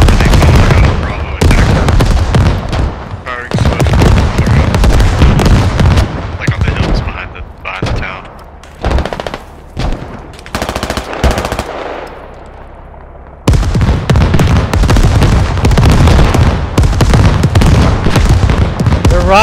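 Mortar shells exploding in the Squad video game, with heavy booming blasts and rapid gunfire crackling almost nonstop, dropping briefly into sparser bangs midway before surging loud again, while voices talk over the battle.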